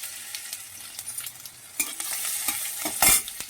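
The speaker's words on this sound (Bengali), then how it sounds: "জিরেটা ভাজা হয়ে এসছে দেখুন আদা গ্রেট করা আদাটা দিয়ে দিলাম" Cumin seeds sizzle and crackle in hot oil with scattered stirring scrapes, a louder burst of sizzling near the end as grated ginger is added to the pan.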